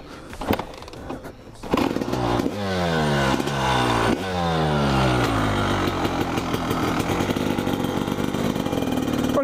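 A motorcycle starts up with a few clunks and a sputter, then its engine revs repeatedly in rising and falling sweeps before settling into a steady, close, throaty run as the ride begins.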